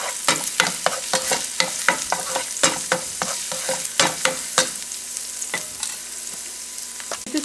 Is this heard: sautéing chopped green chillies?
yes